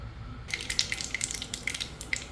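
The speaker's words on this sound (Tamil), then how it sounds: "கடுகு நல்லா பொரிஞ்சிருச்சுங்க." Mustard seeds with chana dal and urad dal crackle and pop in hot oil for a mutton brain masala, after a brief quiet start, with sharp, scattered snaps close by.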